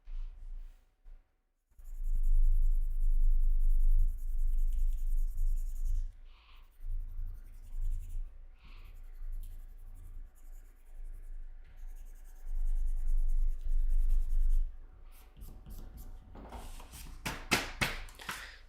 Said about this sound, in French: et on va commencer à le colorier